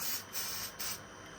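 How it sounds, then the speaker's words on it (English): An aerosol can of test smoke sprays in two short hissing bursts, close and sharp, followed by quiet. "What if I spray down smoke?"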